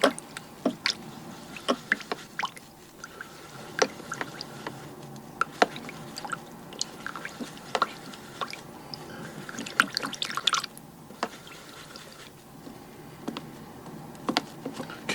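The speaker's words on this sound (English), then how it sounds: "I rinse off my brush really well, and then I squeeze out any of the water in there" Water drips and splashes in scattered small bursts as a paintbrush is rinsed during oil painting, close and fairly quiet, with irregular clustered drops over a faint background.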